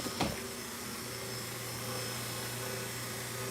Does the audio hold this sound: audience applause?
no